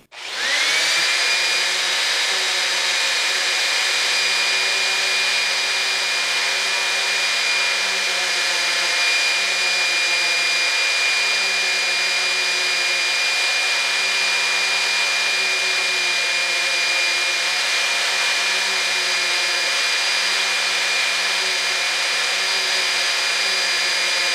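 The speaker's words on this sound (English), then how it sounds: "Now all we do is just do a quick sand to get the oxidized surface off, kind of make them a little whiter." Power sander working over oxidized metal tealight candle holders, a loud continuous whining drone that holds steady for the whole stretch with no talk.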